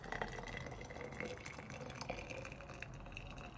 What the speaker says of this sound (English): Pour it into this tube that's going up there.